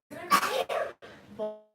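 A single sneeze, short and close, with a sharp gasping burst followed by a brief voiced tail, all within under two seconds.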